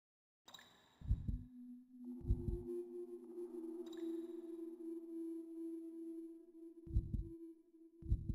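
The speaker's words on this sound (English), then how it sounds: "I can hear my heartbeat" Heartbeat in the 1998 horror video game Hellnight: low thumping beats in an irregular pattern against a steady droning tone, with no talk.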